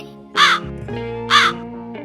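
A crow gives two loud, harsh caws about a second apart over a steady tonal backdrop, with no voices.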